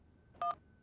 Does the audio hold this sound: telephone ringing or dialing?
yes